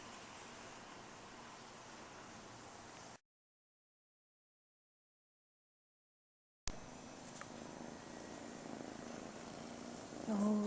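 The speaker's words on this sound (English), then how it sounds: "Oh, Sydney purring" A cat purrs at a kitten rescue sanctuary with a soft, steady, close-up rumble. The purring stops for a few seconds of dead silence, then picks up again with faint room noise.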